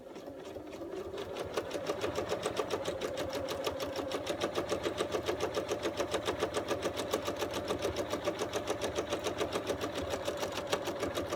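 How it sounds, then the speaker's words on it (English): Sewing machine stitching fabric in free motion quilting, a fast, even mechanical chatter of the needle that holds a steady rhythm after a short start-up, continuous and close. "I can then start doing my free motion quilting."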